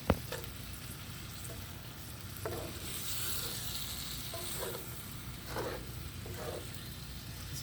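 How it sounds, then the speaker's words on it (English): Spices being stirred into food in a bowl before grilling, with a continuous scraping, sizzle-like rustle and several soft clinks of the utensil against the bowl. "And now we're gonna give it a stir."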